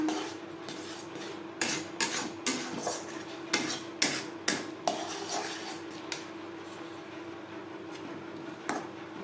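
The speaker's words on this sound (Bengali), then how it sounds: "এইভাবে অনবরত নাড়তে নাড়তে ড্রাই করে নেব" Semolina is stirred continuously in a pan to dry it, with a spoon or spatula giving repeated clinks and scrapes against the metal at a steady rhythm, close and fairly quiet over low kitchen hum.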